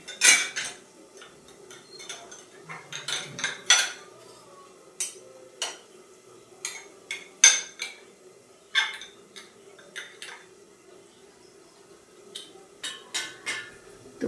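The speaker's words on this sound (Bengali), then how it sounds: "এই যে খুন্তিতে লেগে থাকা মশলাগুলো ভালো করে এই জলটার মধ্যে ধুয়ে নেব" A metal spatula knocks and scrapes against a pot as clinging masala is rinsed off into water, giving scattered sharp clinks and taps, some in quick clusters, over a quiet background.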